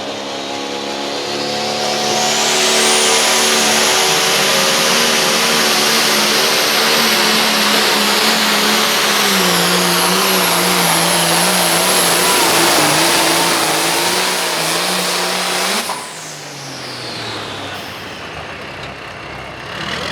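An International 706 tractor named Stress Test roars through a run at a truck and tractor pull. Its engine climbs to a loud, sustained, straining howl for about fifteen seconds, then cuts back sharply to a lower rumble.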